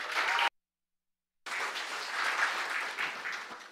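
A school oratory competition audience in Darién, Panama applauds to welcome a student speaker. A short burst of clapping is followed by a gap of silence, then steady, moderately loud applause.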